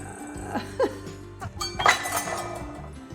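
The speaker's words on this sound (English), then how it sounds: "my husband and I both think that glass is coming down out of our spice rack" Glass clinks and taps a few times in quick, irregular succession, like jars shifting in a kitchen spice rack, with a brighter chime near the middle over a low background hum.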